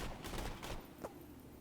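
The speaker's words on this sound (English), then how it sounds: "So I'll do like a 5-round burst. Now I'll hit fire." A five-round burst from a gun in Borderlands 2 cracks out as a quick run of loud, overlapping shots, followed by a brief sharper report and a fading tail.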